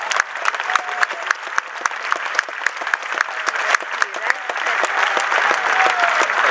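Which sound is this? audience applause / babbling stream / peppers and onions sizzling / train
audience applause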